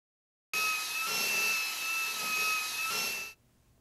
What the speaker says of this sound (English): Mount the tool in an electric or air drill and move the tool up and down to clean out deposits from the guides.